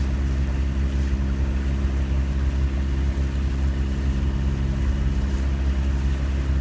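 A fast ferry running at over 25 knots near the Strait of Gibraltar gives a loud, steady engine drone and rushing water and wind noise with no break throughout.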